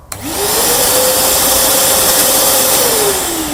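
A Parkside spray extractor carpet cleaner with a steady, high-pitched motor whine starts up and holds at a constant pitch, loud and close, then begins to wind down at the end.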